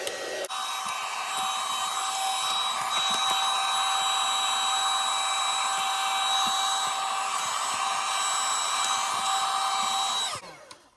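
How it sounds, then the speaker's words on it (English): An embossing heat gun runs steadily for about ten seconds, warming vinyl and interfacing on a fabric craft project, with a loud, constant whirring blow and a faint high whine, then cuts off abruptly at the end. "I'm going to take my embossing gun."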